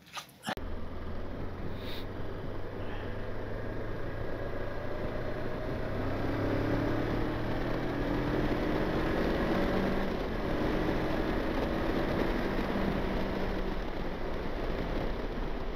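Motorcycle engine pulling away as the rider sets off after riding through mud, a steady low mechanical drone holding loud and close for the whole stretch, with rising tones that suggest gradual acceleration and no talk.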